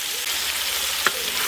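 Onion, tomato and mixed vegetables sauté in oil for home-style sambar, giving a steady broadband sizzle throughout with one brief utensil tap near the end.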